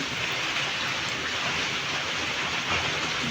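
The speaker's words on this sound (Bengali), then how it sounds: "বাইরে ঝুম বৃষ্টি পড়তেছে, টুপুর টুপুর বৃষ্টি পড়তেছে" Heavy rain falls outside as a dense, steady hiss that stays loud and unbroken, heard from indoors while snacks are being cooked.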